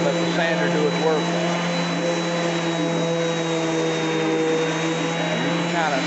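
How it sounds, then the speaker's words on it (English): A power sander works an oak cabinet, a steady loud whirring drone that holds evenly throughout. "Let the sander do its work."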